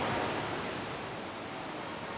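Jogini or Jana waterfall near Manali, a constant dense rush of falling water, even and unbroken, with no talk.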